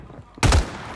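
A single sharp gunshot in the video game Warzone 3, a close, loud burst with a brief tail trailing off, heard alone.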